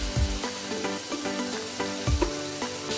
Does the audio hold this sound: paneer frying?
yes